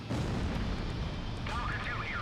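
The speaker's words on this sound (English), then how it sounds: "I've been hit by enemy fire." Enemy gunfire striking an aircraft in the combat flight game Ace Combat Zero: a dense, roaring rumble of impacts and bursts that runs throughout, with a voice speaking over it partway through.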